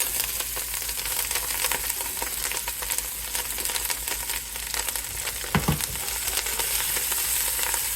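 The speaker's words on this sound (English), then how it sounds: "I can throw the kale and stir it very quickly." Kale frying with onion in a pan, a steady close crackling sizzle throughout with scraping stir strokes and a brief knock around the middle.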